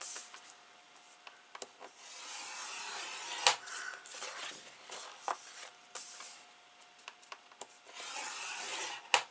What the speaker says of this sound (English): We're going to score this at 3 3/4 all the way around.